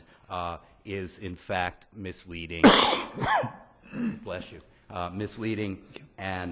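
A single sneeze bursts out amid a courtroom oral argument before the state's highest court, loud and close, breaking briefly into a lawyer's continuous speech.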